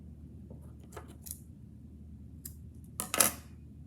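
Scissors trimming craft material for a no-sew Pokemon keychain: a few quiet, close snips spaced out over a few seconds, ending in a louder, crisper cut, with a quiet room otherwise.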